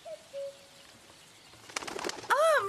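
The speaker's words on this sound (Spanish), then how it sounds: "es una bandada de palomas, las han soltado en el castillo" A flock of pigeons is released at a castle, with a burst of flapping wings followed by rising bird calls near the end. The sound is close and builds in loudness.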